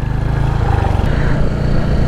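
A motorcycle ridden on the road near Siliguri toward Mirik, its mid-pitched engine droning steadily with a fast, regular pulsing throb and no talk.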